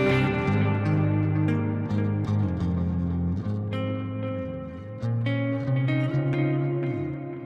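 A clean electric guitar on the neck pickup playing sustained chords and ringing notes, warm and undistorted, continuous and fairly loud with no voices.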